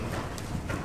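A horse canters in a riding arena during a dressage lesson of the Cavaliers du Jorat in Sottens. A few soft, close hoofbeats land over a steady background in under a second.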